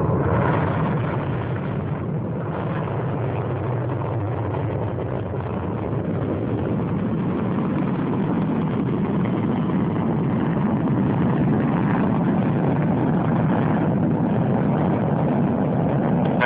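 A rocket carrying the CONTOUR comet spacecraft lifts off, heard as a steady, broad, distant roar that holds evenly for the whole stretch without breaks.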